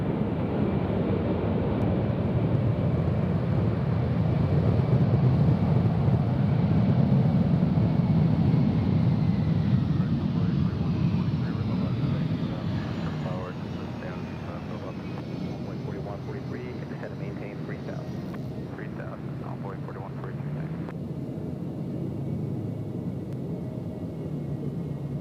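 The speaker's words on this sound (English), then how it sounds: "Here's ABX in the 767 in the DHL livery." An ABX Boeing 767 in DHL livery at Cincinnati airport gives a steady, broad jet roar that holds loud for about ten seconds, then eases to a lower continuous rumble.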